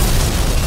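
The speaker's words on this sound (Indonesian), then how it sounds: "bom yang dipasang oleh Umine juga telah meledak" A bomb goes off in an anime scene, one short, loud, low boom that fills the whole moment with no voices over it.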